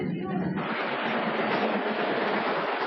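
A train running on the Ecuador Andes railway makes a steady, broad rumble and hiss throughout, with a short stretch of talk near the start.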